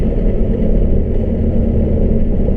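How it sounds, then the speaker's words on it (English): A 1999 Volkswagen Beetle's exhaust gives a loud, steady low rumble while driving, a dense continuous drone with no breaks or talking over it. "little bit of exhaust action there."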